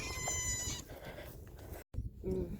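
Goats bleat outdoors on a cold day in East London, South Africa: a drawn-out nasal bleat, then a brief dropout and a second, higher call from a young goat, close and moderately loud.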